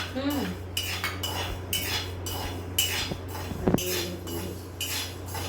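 Rice being dry-roasted in a pan for metkut, stirred with a metal spoon that clinks and scrapes rhythmically against the pan over a low steady hum, close and clear, no speech.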